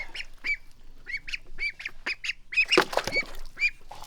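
Ducks quack in a quick series of short nasal calls, close and fairly loud, with a busier cluster of overlapping honks near the end and no voices.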